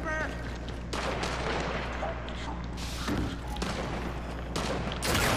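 Sniper rifle gunfire in a Gears of War multiplayer match, several sharp loud shots at irregular intervals over a rumbling, noisy game background.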